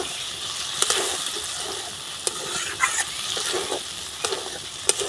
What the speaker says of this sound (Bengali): এবার নাড়াচাড়া করে কষিয়ে নেব আলু মটর